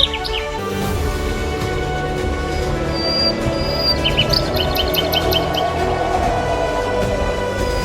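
Hyacinth macaws, the large blue macaws of the Pantanal wetlands in Brazil, call amid a busy wild soundscape, with scattered chirps and tweets over a steady, dense background of other birds and insects.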